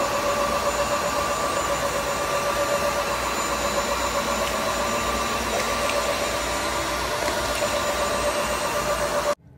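A Tineco S5 Pro wet-dry vacuum mop runs steadily with a loud, continuous motor whine and whirr, close by and uninterrupted, cutting off abruptly at the very end.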